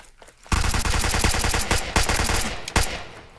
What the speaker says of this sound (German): die vollautomatische Pistole ist voll umgenau